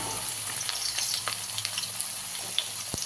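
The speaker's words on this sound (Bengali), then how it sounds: "এবার আলুগুলো ভেজে নেব।" Diced potatoes frying in mustard oil in a wok, a steady close crackling sizzle with scattered sharp pops and spatters throughout, no voices.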